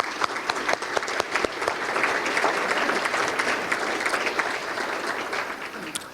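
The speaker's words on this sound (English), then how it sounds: "I want to give them a round of applause as well as our elected officials" Audience applause fills a business luncheon room, steady and sustained for several seconds with crisp individual claps standing out.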